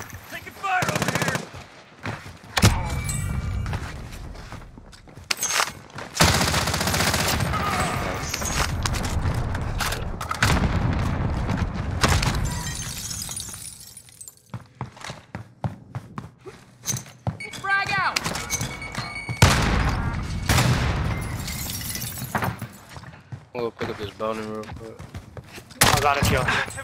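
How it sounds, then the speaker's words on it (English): Rapid machine-gun bursts and scattered gunshots in a Call of Duty Warzone match, sharp and loud in repeated volleys with gaps between, while voices and radio callouts talk over the firing. "Taking fire over here!"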